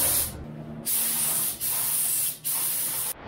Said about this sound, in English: He's going to put down the first coat of primer on the bumper, at least.